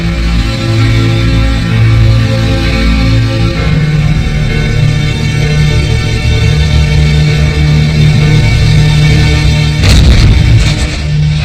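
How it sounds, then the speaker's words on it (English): Heavy cannon fire as Vichy French guns shell Allied landings off the coast of Casablanca and Oran, a loud continuous rumble of booms with a sharper burst of blasts near the end. "the British and Americans are greeted with cannon fire from the Vichy French"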